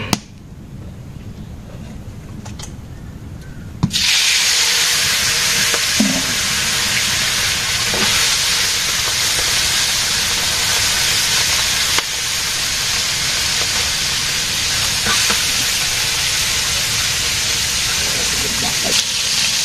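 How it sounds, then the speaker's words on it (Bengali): Bata fish dropped into hot oil on a village clay stove, a quiet background suddenly erupting into loud, continuous crackling sizzle that holds steady and close for the rest of the clip. "এখন মাছ ভাজি করবো।"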